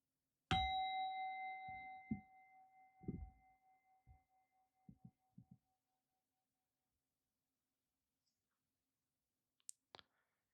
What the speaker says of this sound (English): there'll be one bell to signify the beginning